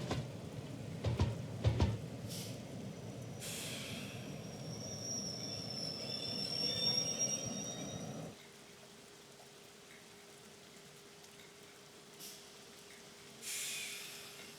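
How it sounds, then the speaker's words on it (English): A rumbling train engine in a Class 415 train simulator game runs loudly, then cuts off abruptly as another train departs, leaving a quiet hum with faint hissing bursts afterward. "The other train leaves."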